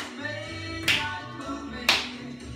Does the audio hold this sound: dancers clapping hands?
yes